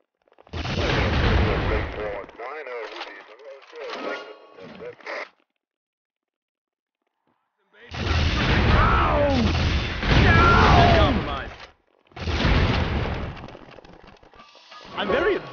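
In the video game Family Guy: Back to the Multiverse, loud bursts of gunfire and booming impacts come in dense clusters with a silent gap between them, mixed with shouted game voices.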